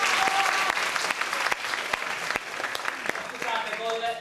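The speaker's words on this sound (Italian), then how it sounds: "facciamo un applauso" Theatre audience applauding at a comic play, a dense burst of many hands clapping with sharp individual claps standing out, steady and loud, tapering slightly near the end.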